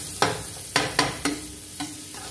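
Onion sautéed in a pan for a vegetable soup, with a spoon stirring and scraping in five or six sharp, close strokes over a soft sizzle, no voices.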